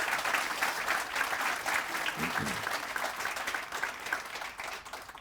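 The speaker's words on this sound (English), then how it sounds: "I just want to give them a round of applause." Steady audience applause fills an awards ceremony for a community housing organization, sustained and fairly loud throughout with a brief low murmur partway through.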